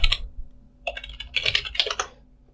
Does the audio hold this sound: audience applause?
no